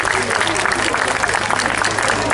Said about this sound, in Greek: Ένα χειροκρότημα για τον Γιάννη τον Φουρλάνου